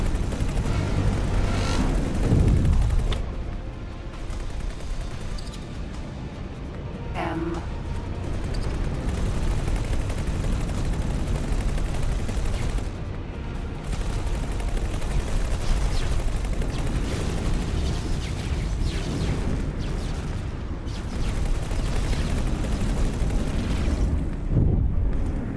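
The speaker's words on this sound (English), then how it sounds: "I am getting shot at" Gunfire strikes a ship in the space game X4 Foundations, a dense, loud barrage of booming impacts and bursts that continues steadily under a rumbling background, with a few sharper hits standing out.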